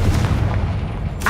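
A blast from the Confringo spell in the Hogwarts Legacy game: a booming burst up front that decays into a rumbling tail, followed by a short sharp crack near the end.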